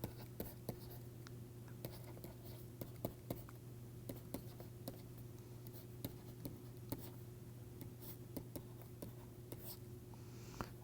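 Chalk or pen scratching out equations quickly during an engineering lecture on droplet drag, a rapid irregular run of faint ticks and taps over a steady room hum, with no talking.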